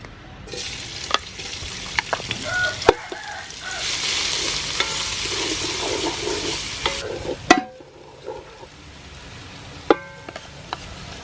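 Soybean oil sizzles steadily in a pan for a chicken curry, a close hiss that runs unbroken under sharp clinks and scrapes of stirring.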